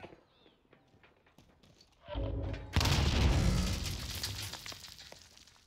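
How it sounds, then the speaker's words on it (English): A grenade detonates in the video game Warzone: after a quiet stretch of faint clicks, a sudden loud blast hits, then a second heavier boom follows and trails off into a long rumbling decay. "Grenade out."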